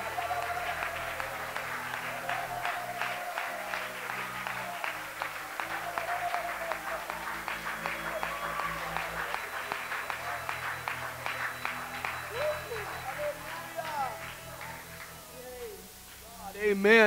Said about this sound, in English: Let's just clap our hands to Jesus right now.